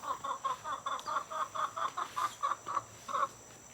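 Chickens cluck in a quick, steady series of short calls in a Tennessee summer garden in the morning, fairly close and clear against a quiet background.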